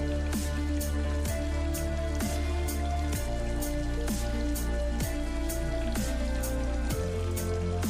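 Steady rain pattering on a surface with regular drips and a low droning tone underneath, continuous throughout.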